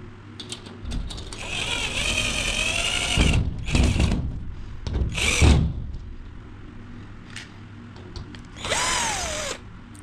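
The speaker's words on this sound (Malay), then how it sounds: "kita ikat bracket dia menggunakan skru yang sesuai" A power drill drives screws to fasten an LED light bracket into a plaster ceiling, with loud whirring bursts that rise and stop several times, separated by brief pauses.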